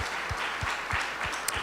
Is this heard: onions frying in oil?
no